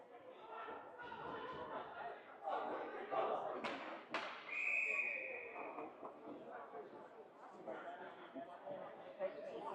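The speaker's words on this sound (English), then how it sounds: "we hear the whistle" A referee's whistle blows one sustained shrill note midway, over a busy ice hockey arena bed of crowd noise, thuds and talking voices at a youth 14U game.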